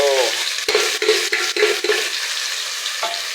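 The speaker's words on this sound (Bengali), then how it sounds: "এবার তেল দিয়ে দিয়েছি মশলা করার জন্যে আর এই যে পেঁয়াজগুলো ঢেলে দিই" Sliced onions are tipped into hot oil in a pan for an egg curry, setting off a loud steady sizzle broken by repeated scraping stirs and clinks of the spatula.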